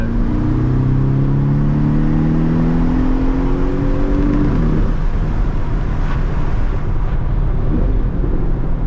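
A 2018 Porsche 718 Cayman S with a mid-mounted turbo engine pulls hard while driving. Its note climbs steadily for about five seconds, then settles into a loud, sustained roar inside the cabin.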